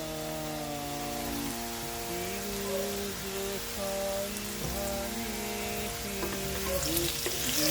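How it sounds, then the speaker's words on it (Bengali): Kohlrabi (olkopi) curry sautés in a pan with salt, turmeric and spices: a steady, close sizzle with stirring scrapes, over faint tonal background music and no talk. "দিয়ে এবার আবার একটু কষিয়ে নেব মশলাগুলোর সাথে"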